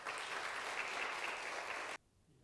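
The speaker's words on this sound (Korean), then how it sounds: "여러분 크게 박수해 주시기 바랍니다." A church congregation applauds during a pastor ordination thanksgiving service, a dense, steady wash of many hands clapping for about two seconds before cutting off abruptly into quiet room tone.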